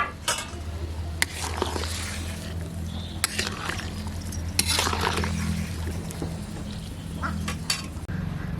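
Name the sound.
fish being added to boiling curry broth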